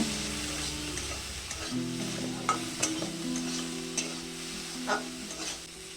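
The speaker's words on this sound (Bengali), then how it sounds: "সবজিটা চার পাঁচ মিনিট ভালো করে ভেজে নেব" Vegetables fry in a hot pan while being stirred, giving a steady close sizzle with intermittent scraping clinks of the spoon against the pan over a low background tone.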